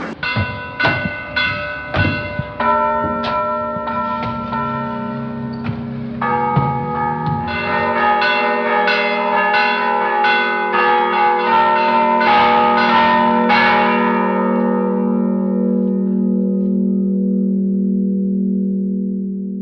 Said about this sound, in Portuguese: Eu vou tocar 2 sinos, os 2 e o grande.